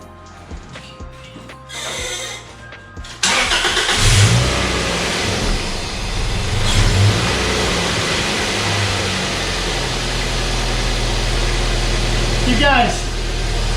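A Toyota MR2 Spyder with its pre-catalytic converters removed cranks and fires up abruptly, then roars loudly and unevenly, stumbling as it is left in gear, close and alone.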